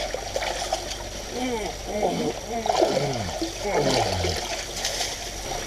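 Creek water splashes and trickles close by during metal detecting for Civil War bullets, a steady wet rush that runs the whole time, overlaid by short repeated falling, swooping tones.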